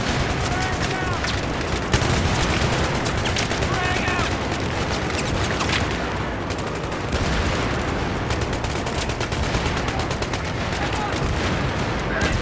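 Dense, rapid bursts of automatic gunfire and explosions from the video game Battlefield 3 fill the whole stretch loudly and continuously, with barely any pause.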